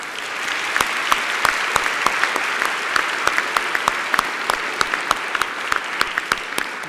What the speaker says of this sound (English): So that applause is for you, Ravi,